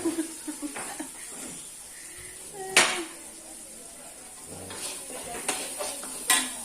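Sambal sizzles faintly in a pan while a spoon scrapes and clinks against the metal in scattered strokes, with some soft talk in the background.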